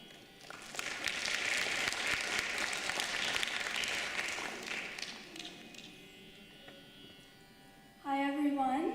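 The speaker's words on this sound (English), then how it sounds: "can we all give Sneha another round of applause" Audience applause at a Bharatanatyam dance recital, steady clapping from a full crowd for about five seconds before fading, then a voice comes in near the end.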